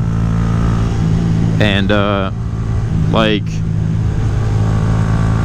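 A Honda Grom motorcycle engine drones steadily while riding the tight turns of Ilion Gorge, with someone talking over the continuous mid-pitched hum and wind.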